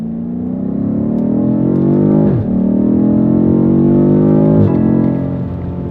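A BMW F90 M5 accelerates hard, its loud engine and exhaust note climbing steadily in pitch through the gears, with two brief dips at the shift points, all close and continuous with no talking.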